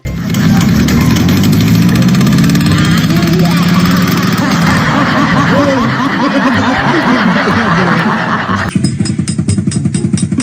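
A motorcycle engine suspected of knocking after riding through knee-deep floodwater runs loud and continuous, with a rough, uneven putter, and a burst of laughter rides on top throughout.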